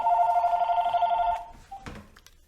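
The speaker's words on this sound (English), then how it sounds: "Phone call." A telephone bell rings loudly in one sustained burst, then cuts off abruptly, followed by a short clunk as the receiver is picked up in a quiet room.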